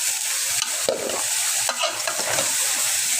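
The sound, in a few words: vegetables stirred and frying in pan for fish curry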